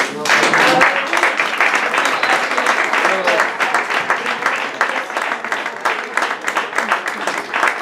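An audience at a poetry evening breaks into applause, a sustained crackle of many clapping hands, loud and close, with voices speaking through it.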